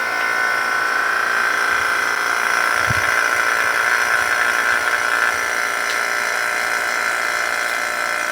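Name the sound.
vacuum pump running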